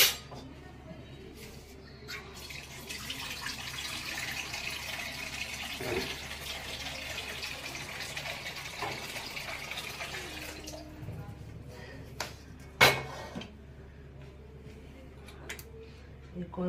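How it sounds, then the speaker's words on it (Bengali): Water pours into a wok on a home kitchen counter, a steady running, filling rush for several seconds that stops and leaves faint drips and clinks, with a voice speaking quietly in the background. "এগুলো দিয়ে মিশিয়ে নিলে এবার এই কড়াতে জল দেবো।"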